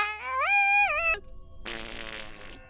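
A cartoonish Minecraft fart sound blares with a rising, wavering buzzy tone, then a second rougher burst follows after a brief gap, loud and alone.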